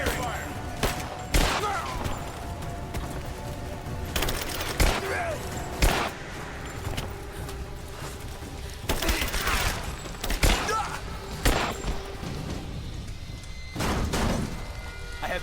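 Gunfire in the video game Rise of the Tomb Raider comes as repeated sharp, loud shots and bursts in an ongoing firefight, layered over a dense rumbling background.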